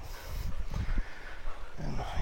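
Dogs in a home kitchen area, giving short muffled yips and whimpers in quick bursts, close by and fairly loud, with little else around them.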